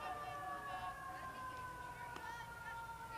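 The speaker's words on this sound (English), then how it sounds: "Hearing some sirens in the background." Emergency sirens wail faintly in the distance at a youth girls' baseball game, a steady wavering tone drifting under low crowd and field ambience.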